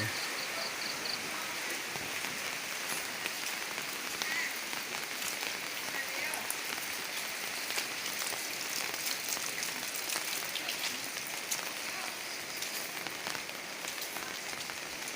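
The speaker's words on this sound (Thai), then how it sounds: "ฝนตก ฝนตกบรรยากาศดี" Rain falling on a home vegetable garden, a steady dense patter of drops on leaves and surfaces throughout, with a voice speaking faintly in the background.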